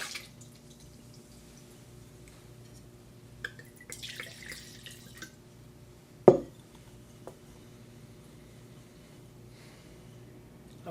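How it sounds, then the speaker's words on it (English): A wine glass being rinsed with water for a white wine tasting: faint drips and trickling, with one sharp glassy clink in the middle and a few soft taps, quiet and close. "We're going to rinse this glass properly."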